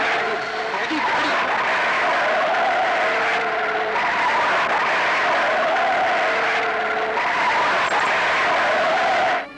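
A car brakes hard and its tyres skid in a long, loud screech lasting several seconds, with voices shouting over it.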